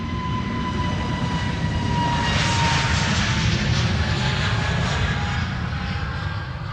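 An SAS Airbus A320neo jet departing Amsterdam Schiphol, a loud, close continuous engine roar with a whining tone that swells in the middle and stays strong throughout.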